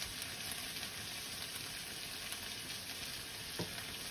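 Moose steaks sear in a frying pan with a steady, fairly quiet sizzle and crackle, a few brief pops standing out near the end, no talking.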